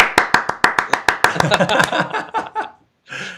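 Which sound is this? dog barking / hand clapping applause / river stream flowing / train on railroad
hand clapping applause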